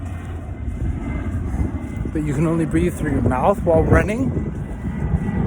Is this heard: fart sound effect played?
no